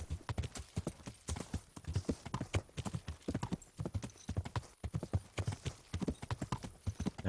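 Horse hooves clip-clopping in the video game Kingdom Come: Deliverance, a steady walking rhythm of sharp, fairly quiet hoof strikes continuing throughout with no talk over them.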